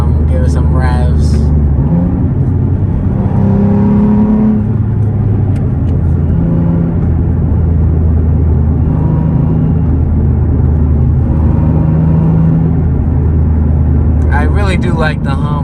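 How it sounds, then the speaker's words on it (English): A Nissan 370Z on its old exhaust revs, a loud, deep hum rising and falling in several pulls while people talk. "The old exhaust really does have a good hum to it."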